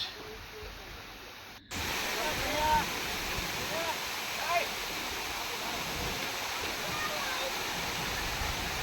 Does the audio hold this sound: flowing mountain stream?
yes